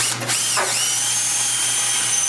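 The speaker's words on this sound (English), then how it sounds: "now we'll drill out those four" A power drill whines steadily and loudly, drilling out bolts on a 2006 Club Car DS 48-volt electric golf cart during a battery conversion, its pitch dipping briefly near the start before holding an even, continuous drone with no talk.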